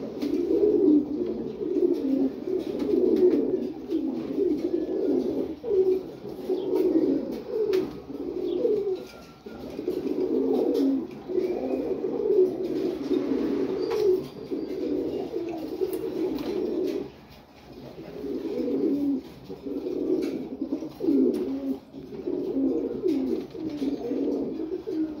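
A pair of silver pigeons coo in low, rolling phrases, nearly continuous with brief pauses, heard close and fairly loud with no voices.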